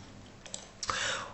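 A laptop keyboard key gets pressed on a Windows laptop, a couple of light clicks followed by a brief soft burst of noise, close and fairly quiet.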